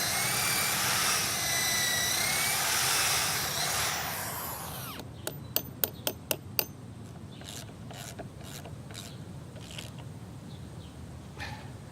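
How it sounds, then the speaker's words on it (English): A power drill bores pilot holes in timber for a raised vegetable garden bed. A loud, sustained whine runs for several seconds and then stops, followed by a series of sharp clicks and taps. "we're going to need to pre-drill each hole."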